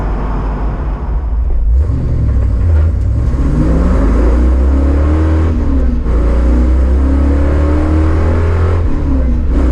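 A Chevrolet Caprice with a T56 manual transmission accelerates hard on a flying lap at a race track, a loud close engine roar rising in pitch through the gears with brief dips at shifts.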